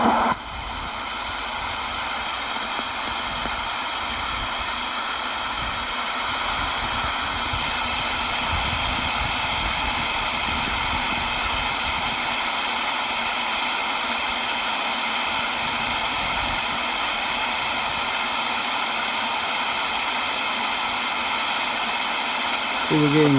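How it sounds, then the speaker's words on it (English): VHF airband reception from a local airport on a Lafayette Air-Master 10 radio, heard as a steady, loud hiss of static with faint murmuring transmissions buried in the noise throughout. "There's some VHF communications from a local airport."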